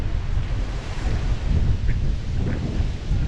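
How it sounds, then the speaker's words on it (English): Strong typhoon winds roar steadily through a street in Taipa, Macau, a dense, continuous low rumble of gusts buffeting the microphone with no voices. "the winds are really picking up"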